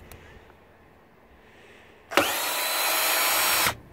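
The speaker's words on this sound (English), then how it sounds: "So now I got my nut driver, it's 1/4 inch." A 1/4 inch nut driver removes screws during a dishwasher teardown. After a quiet stretch, one close, loud whirring burst runs for about a second and a half, then stops abruptly.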